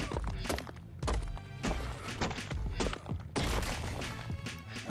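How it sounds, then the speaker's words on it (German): A player strikes stone again and again to harvest it in ARK: Survival Evolved Ragnarok on PS4, a rapid run of dull, close thunks with brief gaps between bursts and no talking. "dann hauen wir noch mal ein bisschen Stein ab"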